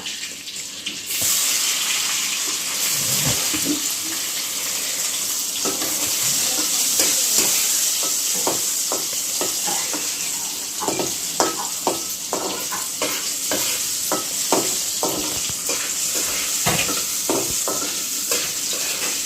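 Paneer cubes with a little turmeric frying in hot oil, a steady loud sizzle with repeated sharp clicks of a spatula stirring against the pan, no voices.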